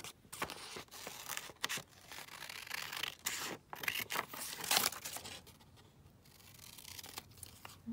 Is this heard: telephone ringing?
no